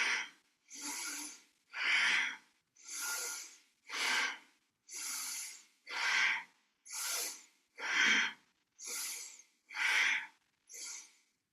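Fast, forceful kundalini yoga cleansing breath, a steady run of about a dozen sharp pushed exhales through the nose, evenly spaced and close, with no talking.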